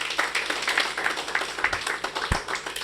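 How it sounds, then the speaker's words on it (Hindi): An audience claps steadily after a Hindi poetry recital, a dense patter of many hands sustained throughout, with a couple of louder thumps partway through. "सबकी तालियों का इंतज़ार है मुझे"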